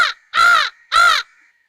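A human voice imitates a crow cawing, giving one clipped caw and then two loud, full caws separated by short pauses, with no other sound around it.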